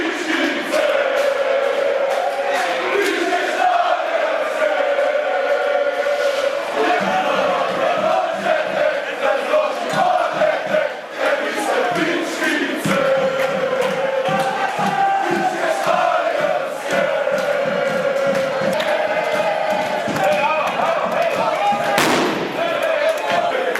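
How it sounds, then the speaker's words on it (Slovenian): Loud, sustained chanting of Green Dragons football fans as their train pulls into a railway station, a dense crowd roar with rhythmic shouts and occasional bangs running throughout. "Vlak se pripelje in glasno skandiranje se prične"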